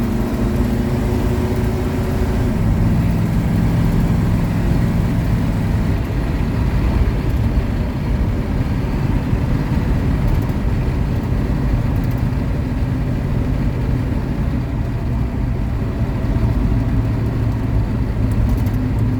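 A 180-horsepower car engine drones loudly and steadily from inside the cabin, with a shift in pitch early on as it downshifts, continuous road rumble throughout.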